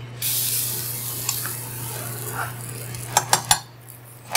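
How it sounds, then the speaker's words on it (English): Cooking oil sprayed onto a 2-inch steam table pan: a continuous close hiss lasting several seconds, followed by a few sharp metallic clanks of the pan near the end, with no talk. "I'm going to go ahead and spray this pan."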